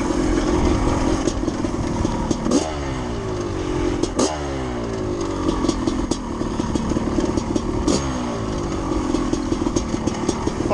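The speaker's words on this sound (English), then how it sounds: "bike is running so good" A 600-class dirt bike engine runs loud and close during a hillclimb, revving hard with repeated rising and falling throttle sweeps over a steady rough drone.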